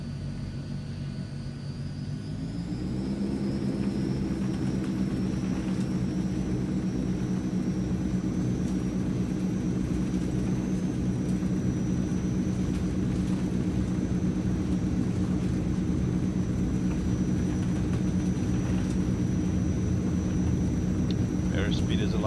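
Transall C160 twin turboprop engines spooling up for takeoff in a flight simulator, a steady loud droning rumble with a rising whine that builds after a couple of seconds and holds throughout.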